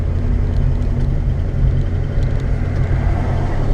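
A 1966 Ford Mustang engine hums at low, steady revs as the clutch is eased out, a close, continuous rumble with no talk over it.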